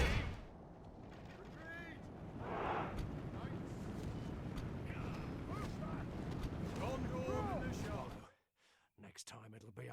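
A battle in the Divide & Conquer campaign opens with an artillery barrage, a dense, rumbling roar of firing and impacts with battle noise that fades out near the end.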